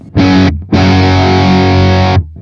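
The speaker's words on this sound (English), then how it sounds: "Modern Mesa Boogie Dual Rectifier. Let's try it." An electric guitar played through a Modern Mesa Boogie Dual Rectifier amp simulation in TH-U by Overloud sounds two heavily distorted chords: a short stab, then a longer sustained chord that cuts off sharply.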